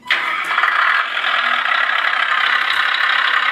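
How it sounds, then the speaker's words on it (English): A Tamiya Grand Hauler RC truck's multi-function sound module plays a simulated diesel engine, starting abruptly and holding a loud, steady, rattling idle without any talk. "I get engine sound,"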